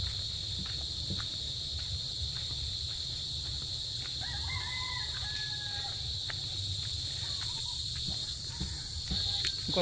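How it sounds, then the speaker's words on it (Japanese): Rooster crowing in the tropical Philippines heard at a distance over constant insect buzzing, a drawn-out crow rising mid-clip followed by fainter calls. "このコケコッコなんですが、"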